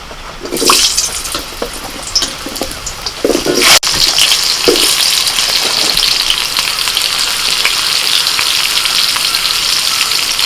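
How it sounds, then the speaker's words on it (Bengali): Potatoes frying in oil in a kadai, beginning with a few clatters and splashes before settling into loud, continuous sizzling that runs close and steady throughout. "কড়াইতে তেল দিয়ে দিয়েছি এখন আলুটা ভেজে নেব"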